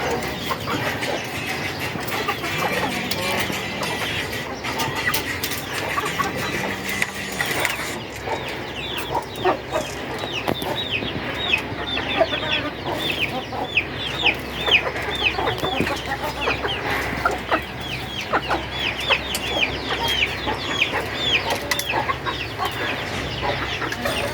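Chickens in a steel-built coop cluck and chatter continuously as feed is scattered for them, a busy flock of overlapping calls close by throughout.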